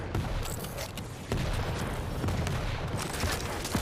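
Rocket launcher fire and explosions in a Quake World Championship match, a dense busy stream of blasts and mechanical clatter with a sharper burst midway, steady and close.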